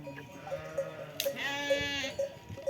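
Sheep bleating during milking on a rural farm, with one clear wavering bleat in the middle and fainter animal calls around it, fairly close.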